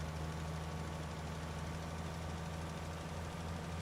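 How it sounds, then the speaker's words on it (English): Tractor engine working hard under load, a steady low diesel drone with a constant rumbling hum, close and continuous with no talking. "Something about the way a tractor sounds when it's under load."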